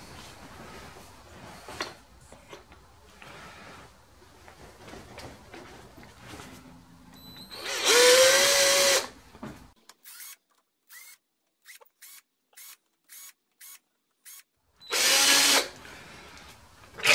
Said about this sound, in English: so that's it, all the drilling finished